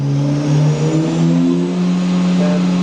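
A Doosan DNM 400 CNC machine spindle (2010) spins up through rising RPM, producing a steady mechanical whine with clear tonal hum lines that shift and climb over about three seconds, loud and close, with no talk.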